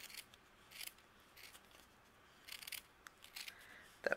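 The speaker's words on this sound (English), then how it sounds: "we're going to take our scissors, and then we're going to trim" Scissors trimming a fringe cut into cardstock during card making, a few quiet, brief snips spaced apart, close and faint with no voice.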